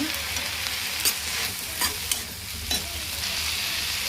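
Coriander and mint leaves, with a little tamarind and salt, sizzle and fry in a pan for chutney, a steady close crackle broken by a few sharp stirring scrapes, with no talk.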